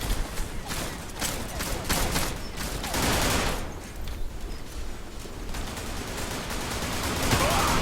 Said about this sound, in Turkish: Evet biri beni vurdu ve olduğum yere yapıştırdı.